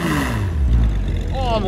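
A Renault Mégane engine revs hard at close range, its rising and falling note sweeping under voices for a short burst.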